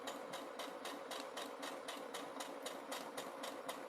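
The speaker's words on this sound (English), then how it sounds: "And I'm sewing just to the inside." A sewing machine stitches fabric for half-square triangle quilt blocks in a steady, fast rhythmic chatter of needle strokes, quiet and unbroken for four seconds.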